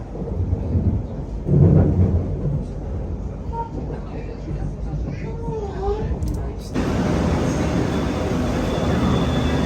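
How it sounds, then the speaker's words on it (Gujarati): A London Underground train rumbles along slowly in a low, steady roar with some brief faint voices, and then the noise turns brighter and louder as it keeps running. "ટ્રેન આજે જરાક વધારે પડતી સ્લો જાય છે સિગ્નલમાં પ્રોબ્લેમ છે"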